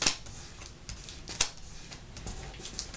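Origami paper folded and creased by hand, quiet crisp rustles and sharp crackling snaps at close range.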